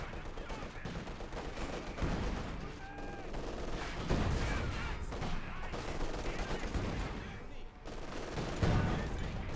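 Machine gun fire in Company of Heroes 2 on the El Dorado map rattles continuously through a busy battle, mixed with other gunshots and explosions, with a commentator's voice faint underneath.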